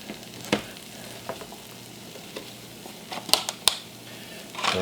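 Pico de gallo sizzling and frying in a hot pan for breakfast tacos, a steady crackling hiss with occasional sharper pops and stirring scrapes, close up.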